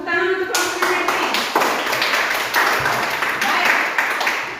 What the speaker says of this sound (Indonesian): Tepuk tangan untuk kelompoknya Catherine.